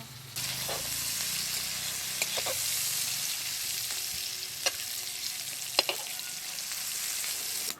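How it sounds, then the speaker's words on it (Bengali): Potato pieces coated in salt and turmeric fry in hot oil, giving a continuous close sizzle broken by a few sharp clicks of stirring or utensil taps, with no voices. "আলু ভেজে নেব।"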